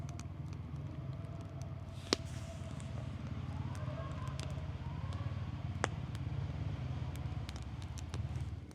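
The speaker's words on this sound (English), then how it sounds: "some significant traffic out on the road right now." Road traffic rolls past a campsite as a steady low rumble, with vehicles blending into a continuous distant drone and a couple of sharp nearby knocks.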